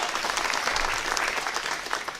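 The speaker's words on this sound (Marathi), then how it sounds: "त्या दोघांच्यासाठी पण जोरदार टाळ्या वाजवाव्या" Loud, dense applause from a crowd at a municipal council election rally, honoring two deputy president candidates; steady clapping fills the whole stretch with no voices above it.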